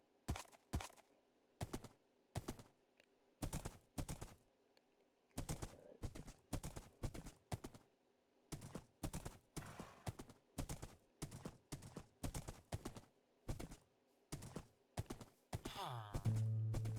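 Blocky horse hooves in Minecraft clop in quick clusters of two to four beats with short gaps between them, close and crisp, and no voice is heard.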